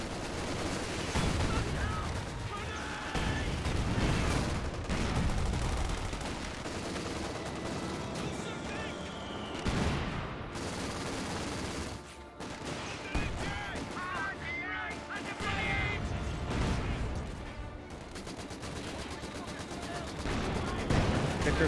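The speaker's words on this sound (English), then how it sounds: "Vickers firing away." Vickers machine gun firing in battle in the video game Company of Heroes 2, sustained rattling bursts mixed with other gunfire, explosions and battle noise, a commentator talking over it throughout.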